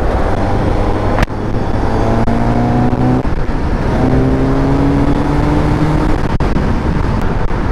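Suzuki GSX-S750 motorcycle cruising in sixth gear, a steady loud engine drone with rising harmonic tones as it pulls, plus wind roar and a few brief knocks throughout.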